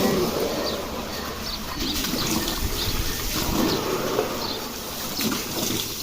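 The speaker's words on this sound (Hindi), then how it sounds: "आप चेक करिए आप पानी बहा रहे हैं" Water running and splashing while a motorbike is washed during a bike service, a steady broadband wash of liquid noise with faint irregular splatters throughout.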